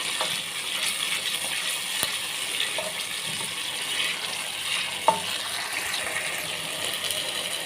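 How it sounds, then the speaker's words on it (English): Tomato paste fries in a pot for a tomato stew with cow meat, giving a steady soft sizzle. A spoon stirring it makes occasional light clicks and taps, and one sharper knock comes partway through. "Then you have to keep on stirring it until the tomato paste also is done."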